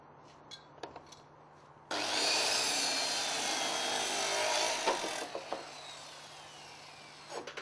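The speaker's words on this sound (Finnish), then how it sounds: "Räystäspuiden päät ajetaan samaan linjaan ja suoraksi käsisirkkelillä tai käsisahalla." A hand circular saw trims the ends of wooden eave timbers on a roof frame, one steady loud cut lasting about three seconds, preceded and followed by light knocks and handling of the wood.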